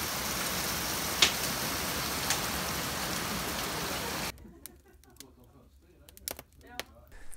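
Rain pouring onto an outdoor shelter on a wet day, a steady even hiss that cuts off abruptly midway, leaving a quiet space with faint scattered taps and small sounds.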